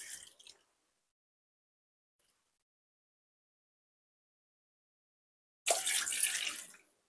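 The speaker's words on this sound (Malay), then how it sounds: "Ni saya masukkan air 2 cawan air ya" Water is poured into sugar in a kitchen while making kuih kaswi, heard as two short splashy pours separated by near silence, the second longer and louder.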